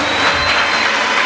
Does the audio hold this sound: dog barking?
no